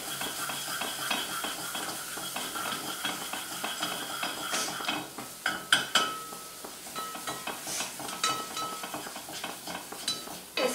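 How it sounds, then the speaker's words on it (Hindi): A spoon scrapes and clinks against a pan as masala for matar paneer is stirred continuously over a soft sizzle, with irregular, close, moderately loud strokes. "ऐसे ही चलाते रहेंगे ताकि हमारा मसाला जो है ना जले"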